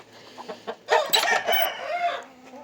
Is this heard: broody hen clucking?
yes